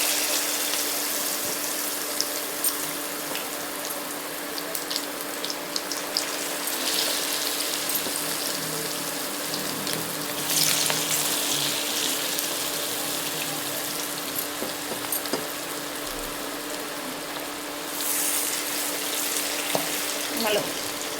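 Chicken chilli pakoda fries in hot, spattering oil, giving a steady, loud sizzling hiss with scattered pops and crackles throughout, brief surges of louder spitting, and no speech heard over it.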